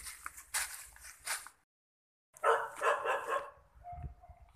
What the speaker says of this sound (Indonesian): Anjingnya malah pada menggonggong kawanku.